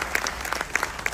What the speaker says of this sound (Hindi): सबसे पहले तो आपसे अनुरोध करूंगा कि एक बार जोरदार तालियां होनी चाहिए आपके लिए भी